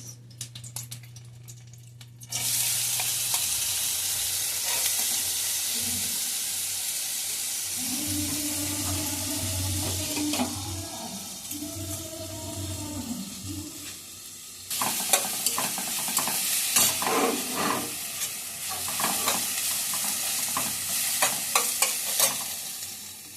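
Cashews, almonds and raisins frying in a spoonful of ghee for carrot halwa, a steady close sizzle with stirring scrapes that starts after a short quiet hum and grows busier and louder in the latter half.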